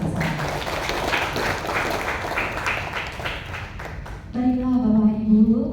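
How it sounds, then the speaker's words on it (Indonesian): An audience at a national seminar applauds together: steady, dense clapping for about four seconds, close and continuous, then it gives way to a voice speaking. "Kita kasih aplaus bersama-sama."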